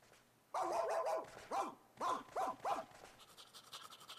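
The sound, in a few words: dog barking in Kingdom Hearts 2 video game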